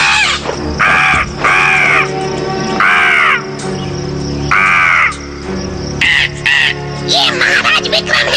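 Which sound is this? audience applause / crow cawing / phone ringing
crow cawing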